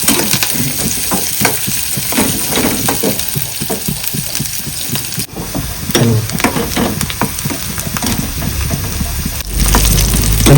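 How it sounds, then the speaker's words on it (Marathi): Chopped onion and coriander sizzle and fry steadily in hot oil for a village-style mutton curry, with loud continuous crackling and occasional stirring scrapes throughout, no voices. "ह्याला पण सेम लालसर सगळं भाजून घ्यायचं."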